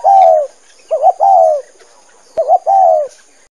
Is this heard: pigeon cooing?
yes